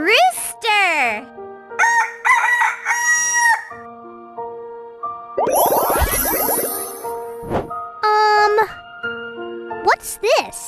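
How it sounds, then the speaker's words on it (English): A rooster crows several times with a loud, rising-and-falling cock-a-doodle-doo, alternating with other bird calls and bright jingling tones in a children's bird-naming lesson. "Rooster."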